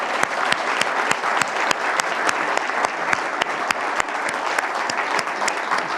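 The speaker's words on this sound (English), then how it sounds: "I'd like you guys to give a round of applause to the staff here at the library" A library audience claps for the staff, dense continuous applause with sharp individual claps standing out, steady and fairly loud throughout, with no voices over it.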